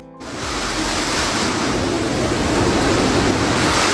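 Typhoon Podul drives ocean waves onto the Taitung coast of Taiwan, a loud, unbroken roar of surf mixed with wind, dense and steady from start to finish.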